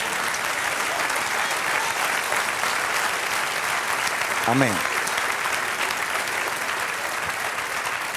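A church congregation applauds during a sermon, a broad, steady wash of many hands clapping close and loud throughout, with a brief spoken response rising through it.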